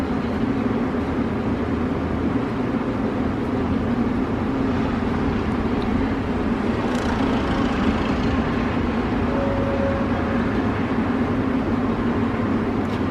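A twin turbo Mustang making about 1000 horsepower on E85 fuel revs hard on a dyno, a continuous dense mechanical roar holding steady at high volume throughout, with a faint whistle partway through.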